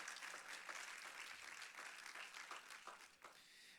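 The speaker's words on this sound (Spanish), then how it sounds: "Vamos a dar un aplauso fuerte a Jesús" Church congregation applauding together, a steady, dense wash of clapping that holds for several seconds at moderate volume, with a few voices faintly mixed in.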